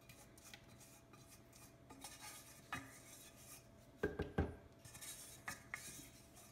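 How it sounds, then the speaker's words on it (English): Gumbo is ladled from a stovetop pot into a crock pot with irregular metal clinks and scrapes, including a cluster of louder knocks near the middle, and no talking. "You're going to take it and transfer it to your crock pot."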